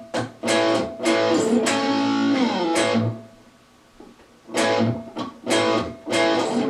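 Electric guitar playing Riff D of a song, loud repeated picked phrases with a sustained pause in the middle before the riff resumes, played alone without talk.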